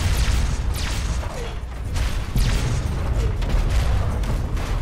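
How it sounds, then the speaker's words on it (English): Booming explosions in the video game Fallout 3, several heavy blasts in irregular succession over a dense, rumbling low-end roar. "At this point, it's basically just all about looking at explosions."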